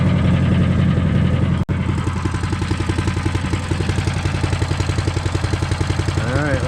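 A Harbor Freight Predator engine on a wood chipper shredder runs steadily up close, a loud low pulsing drone with a fast regular beat, briefly cut out once near the start before continuing.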